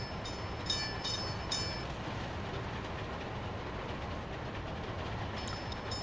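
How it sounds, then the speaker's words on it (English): A train runs in the Soviet-era city-building game Workers and Resources: Soviet Republic, giving a steady low rumble of rolling rail wagons with a few faint high clicks early on, continuous and moderately loud. "when you get your first train actually out and doing stuff"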